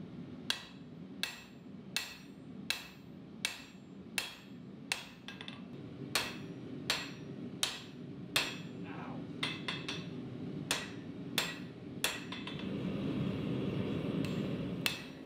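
Hammer forging a Damascus steel katana blade: evenly spaced sharp metallic blows ring out one after another, with a rising rumbling background toward the end.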